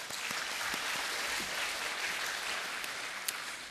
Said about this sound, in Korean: 그 하나님 앞에 영광과 감사의 박수를 올려드리겠습니다.